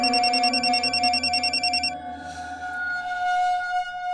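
An outgoing phone call rings in the handset, a warbling electronic ring tone pulsing for about two seconds, then a steady ringback tone continuing alone, clear and close.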